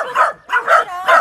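Dogs at a shelter for abandoned dogs giving three quick, close yipping barks in a row, loud and high-pitched.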